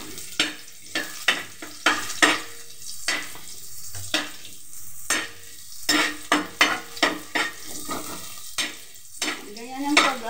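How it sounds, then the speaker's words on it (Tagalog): Onion and garlic sautéing in a pan, a steady sizzle of frying broken by a brisk run of repeated scraping, clinking stirs with a spatula, close and clear. "Ayan, igisan natin yan. Mekos-mekos na natin ang sibuyas at ang bawang."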